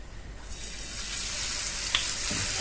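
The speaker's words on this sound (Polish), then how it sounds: "Kiedy olej nam się podgrzał, wykładamy placki." Steady, bright sizzling of zucchini pancake batter frying in hot oil, growing slightly louder as pieces go in, with a faint clink partway through.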